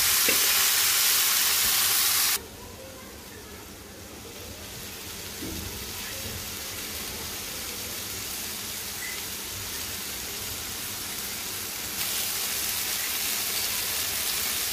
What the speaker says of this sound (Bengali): এরপর ভাজা ভাজা করে নামিয়ে নিব